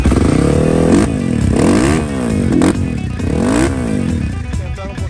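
A Honda CRF 310cc motorcycle revving repeatedly, the engine pitch climbing and dropping in several loud close sweeps over a rough idle, with no talking.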